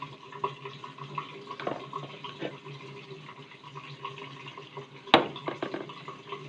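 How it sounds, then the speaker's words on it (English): Tap water runs softly into a sink while a spoon and steak knife are rinsed, faint splashing with a few light clinks and one sharp metallic knock near the end, close by and without speech. "I'll give a rinse my spoon that I'll be using and my fork"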